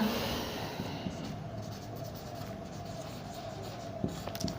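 A pen scratches numbers onto paper by hand, close and steady, with a few small taps and strokes near the end and no talking.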